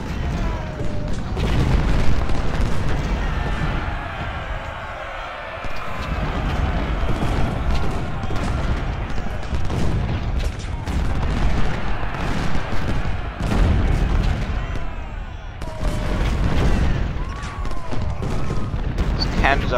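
Cannon and artillery fire in the video game Ultimate General, a Battle of Fredericksburg scenario, with repeated booming volleys and scattered musket-like cracks layered over continuous battle noise, and a player speaking intermittently.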